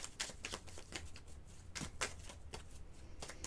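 Tarot cards being shuffled by hand in a quick, uneven run of crisp riffling flicks and papery slaps, close and fairly loud, with no voices over them.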